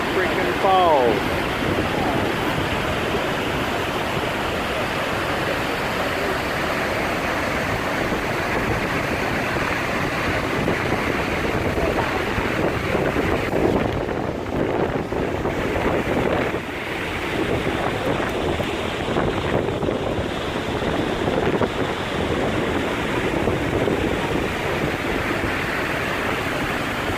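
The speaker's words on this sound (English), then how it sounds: "That is a tremendous amount of water flowing over there." Lower Falls waterfall at Yellowstone, a huge volume of water roaring in a constant broad rush, loud and unbroken, with wind buffeting the microphone.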